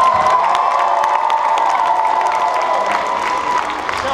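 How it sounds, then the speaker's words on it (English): An audience applauds and cheers for contestants, a loud, steady wash of clapping and whoops sustained throughout with no break. "Can I get one more round of applause for everyone?"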